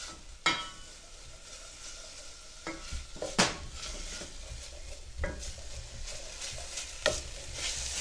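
Shallots or onions sizzle softly in a pan while a utensil stirs them, with scraping sweeps against the pan at irregular intervals over a steady frying hiss.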